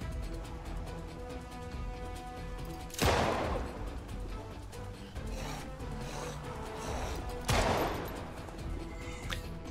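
Two sharp gunshots fired in the zombie survival game Project Zomboid, spaced a few seconds apart, each a loud close crack with a short decaying tail, over a steady background hum of game ambience and music.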